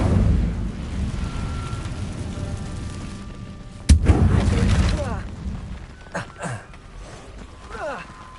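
Incendio fire spell cast in Hogwarts Legacy, a sudden sharp burst with a roaring, crackling whoosh that fades into swooping magical tones, layered over a steady game ambience.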